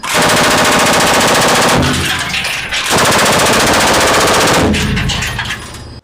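A 20-round machine gun burst from a Leopard 1 tank, a loud continuous rapid rattle of shots in sustained bursts with brief pauses between them.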